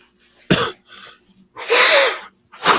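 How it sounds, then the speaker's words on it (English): A person blows their nose into a tissue in two forceful, wet bursts separated by a short pause, close and fairly loud with no talking. "I had to blow my nose"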